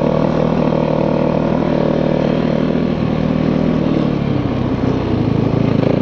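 A snowmobile engine runs at a steady, loud, close idle with a dense mechanical drone and a light rattling clatter throughout, and no one speaks.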